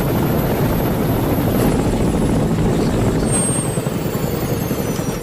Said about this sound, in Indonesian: Ethan melihat helikopter yang datang ke arahnya